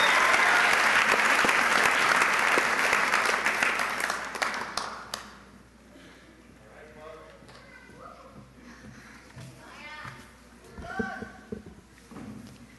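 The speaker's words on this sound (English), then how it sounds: "If we can have another applause for the graduating class of 2015" Loud, sustained applause from a crowd at a high school graduation ceremony that fades out after a few seconds, followed by quieter murmuring voices.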